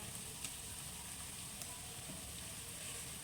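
Tomato seasoning sizzles faintly in a pan of sautéing meat, a soft continuous frying hiss with light crackles and an occasional stir, quiet and close.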